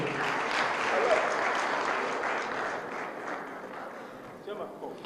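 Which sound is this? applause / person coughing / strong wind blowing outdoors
applause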